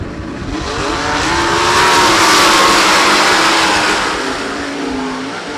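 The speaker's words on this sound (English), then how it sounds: "Wyatt Wilkerson, Dugan T, Colin Moyle getting set to go for a 1-lap sprint to settle Sempico Lubricants heat race number 2" Sprint cars race a one-lap heat, a pack of engines roaring as they pass, swelling to a loud peak mid-way and fading again, with no talk.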